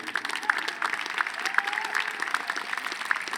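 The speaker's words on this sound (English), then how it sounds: "Let's give them a cheer." Audience applause with scattered cheering fills a university freshman convocation hall, dense steady clapping lasting throughout at moderate loudness with no speech over it.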